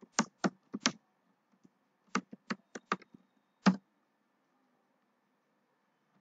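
Keystrokes on a computer keyboard come in short, quick clusters separated by brief pauses, close and clear in an otherwise quiet room, with no talking.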